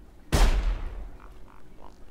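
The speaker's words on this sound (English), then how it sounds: "Why do their shotguns have so much range?" An enemy's shotgun in Sir, You Are Being Hunted, fired as one sharp blast with a booming tail that fades over about a second, followed by quiet.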